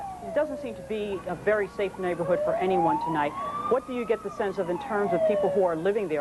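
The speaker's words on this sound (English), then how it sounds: "You can hear the sirens, ambulances going by, police cars everywhere." Police and ambulance sirens wail past on a city street during a night of riots, their rising and falling tones clearly audible beneath a reporter's continuous talk.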